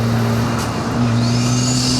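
An Ariel Atom 4R idles with a steady low drone while its titanium exhaust crackles and pops, loud and close, with a rising whine creeping in toward the end.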